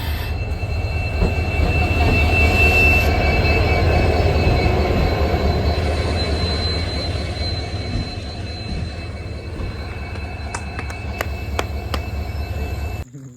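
A train rolls past close by, a loud continuous rumble of wheels with high metallic squeals and clanks toward the end, no voices.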